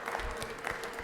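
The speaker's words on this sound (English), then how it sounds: "Give him a round of applause." An audience in a state legislative chamber applauds, a dense, steady patter of clapping that runs evenly from start to finish.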